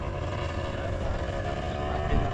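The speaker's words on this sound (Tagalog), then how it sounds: "Laki ng makina." Large boat engine running near the Rainbow Bridge, a loud, constant low rumbling drone that holds steady throughout, with wind buffeting the microphone and no speech.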